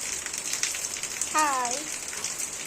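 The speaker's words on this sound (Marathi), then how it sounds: "खूप पाऊस चालू आहे इकडे" Heavy rain falls outside as a steady, moderate hiss throughout, with a brief voice rising over it midway.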